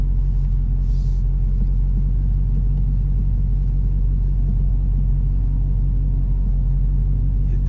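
A Dodge Challenger Hellcat Redeye Super Stock gives off a deep, steady engine rumble heard from inside the car, loud and continuous with no clear rev peaks.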